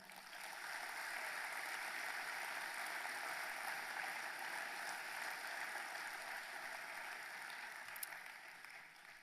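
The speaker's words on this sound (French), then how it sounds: "Bravo à vous, on peut les applaudir." A large hall audience at a national young farmers' congress applauds newly elected board members, with dense, steady clapping that holds at an even level for the whole stretch and fades slightly near the end.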